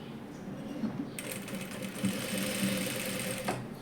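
Close, steady stitching of a sewing machine sewing fabric and elastic on palazzo pants, a continuous motor whir with rapid needle chatter that grows slightly brighter partway through.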